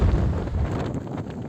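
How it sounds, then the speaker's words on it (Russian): Hurricane-force wind during a heavy blizzard in Anadyr, Chukotka, roars and buffets the microphone in a dense, continuous rush with low rumbling gusts, heard alone. "Второй день на Чукотке бушует ураганный ветер и сильнейшая метель."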